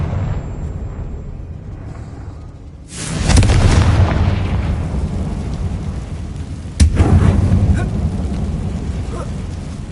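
Two booming blasts of the Confringo fire spell in Hogwarts Legacy, each a heavy explosion with a rumbling tail, the second following a few seconds after the first.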